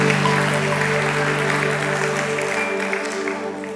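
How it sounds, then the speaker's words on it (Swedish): Congregation applauding during a church service, a full, steady wash of clapping that slowly thins toward the end, heard over a sustained low organ or keyboard tone. "Låt oss ge Herren en riktig applåd."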